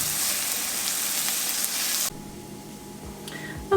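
Onions cooking down in a pan until tender give off a steady, even sizzle that breaks off sharply partway through. Quieter kitchen clatter and a few faint knocks follow.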